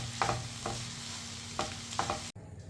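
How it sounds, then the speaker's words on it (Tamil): Grated coconut stirred in a hot pan while making mutton curry, a soft continuous sizzle broken by a few scraping strokes of the spoon, close and quiet, with no talking. "இப்போ தேங்காய் போட்டு 1 நிமிஷம் ஆகிட்டு கிளறிட்டோம்."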